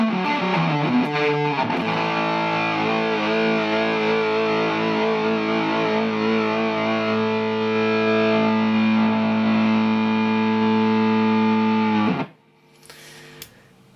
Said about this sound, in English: with both drives on you get this crazy gated fuzz, which I absolutely love. It gets loud.